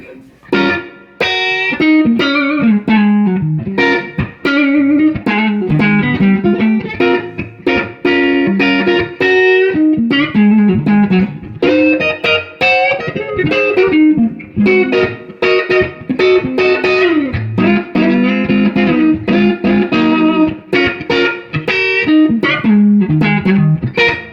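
A clean electric guitar plays a continuous, lively run of chords and notes straight into a Fender Super Reverb amplifier, loud and close, with no voices.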